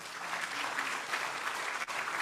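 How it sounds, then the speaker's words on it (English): At a peace and security summit, the audience applauds the panelists, a steady, even wash of many hands clapping at moderate volume for a couple of seconds. "A round of applause, please, for them."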